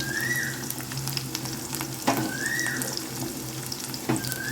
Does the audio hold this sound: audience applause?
no